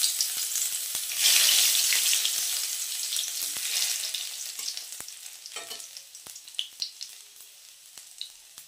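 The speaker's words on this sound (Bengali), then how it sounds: "তেলটা গরম হয়ে গেছে, এবার আমি এটার মধ্যে দিয়ে দিচ্ছি রসুন" Garlic and ginger dropped into hot oil in a kadai burst into a loud, steady sizzle that gradually settles, with a few clinks and stirring scrapes later on.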